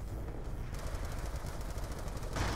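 A Death Machine minigun fires in Call of Duty: Black Ops II as a continuous, rapid, buzzing stream of shots. It is loud and close and runs unbroken throughout, with a brighter surge near the end.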